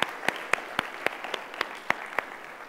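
Sparse clapping at an evening school coding-event ceremony, a handful of sharp, separate claps in a loose, fairly regular rhythm, faint and without talk.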